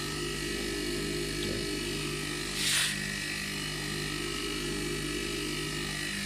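A homemade air compressor built from an air conditioner compressor and feeding a 40-litre tank runs with a quiet, steady hum throughout, close by and unchanging, with one brief faint hiss.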